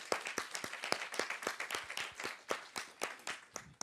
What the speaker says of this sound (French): on peut vraiment applaudir tous les intervenants de cette journée